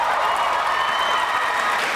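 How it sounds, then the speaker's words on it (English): Audience applause for a poet at a spoken-word poetry event, a steady, fairly loud wash of clapping with no pauses. "Applaud the poet."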